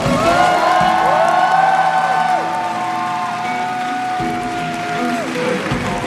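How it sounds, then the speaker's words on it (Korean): An audience at an encore concert in Seoul claps in a loud, sustained burst of applause with scattered cheers, while sustained tones ring beneath it. "저희 오늘 함께 연주해주신 멋진 뮤지션들에게 큰 박수 다시 한번 부탁드리겠습니다."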